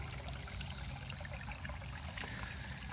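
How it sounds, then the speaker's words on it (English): A small waterfall in a backyard goldfish pond trickles and splashes steadily, a continuous close, moderately loud stream of falling water with no voices. "listen to this little waterfall trickle"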